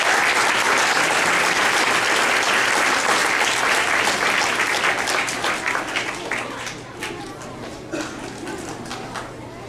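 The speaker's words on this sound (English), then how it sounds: "let's give our Artist of the Month a big round of applause" A school audience gives loud, dense applause for the Artist of the Month at a student recognition assembly. The clapping starts strong, then thins into scattered claps as it fades toward the end.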